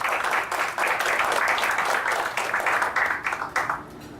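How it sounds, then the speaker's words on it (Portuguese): Applause at a Rotary Club meeting for the members seated at the head table, a full, even round of clapping from the room that continues steadily before tapering at the end. "Solicito uma salva de palmas aos componentes da mesa."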